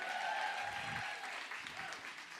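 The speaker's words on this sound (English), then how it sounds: "Clap it up for leather pants." A comedy show audience claps and cheers in a brief, fairly faint burst of applause that thins out within a couple of seconds.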